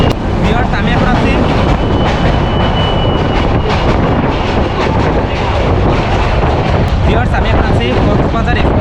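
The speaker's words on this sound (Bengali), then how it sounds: "কক্সবাজার এক্সপ্রেস ট্রেনে, আর আমাদের ট্রেন কিন্তু ছেড়ে দিয়েছে" The Cox's Bazar Express, a night passenger train from Dhaka, rumbles loudly and continuously as it runs, a dense rattling roar of wheels and carriages with sharp clanks throughout.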